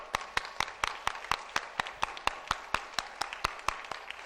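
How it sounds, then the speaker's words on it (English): An audience at a finance innovation event clapping for themselves in a slow, even rhythm, about eighteen crisp unison claps spaced evenly, moderately close with no talk. "I'd love for you to clap for yourself and then rub your palms"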